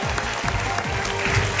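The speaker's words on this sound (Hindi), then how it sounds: "ओहो, पहले ही ताली बज गई है।" A studio audience on the KBC quiz show breaks into loud, sustained clapping that fills the whole moment without pause.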